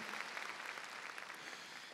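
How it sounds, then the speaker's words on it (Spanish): Church congregation clapping in praise during a Sunday evening service, a dense, even wash of many hands applauding, somewhat distant and steady. "démosle palmas fuertes a nuestro Señor"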